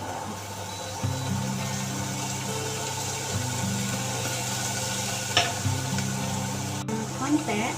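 Butter, shallot, carrots and chicken breast sizzle steadily in a pan for macaroni soup, with intermittent stirring clatter and a continuous low hum underneath.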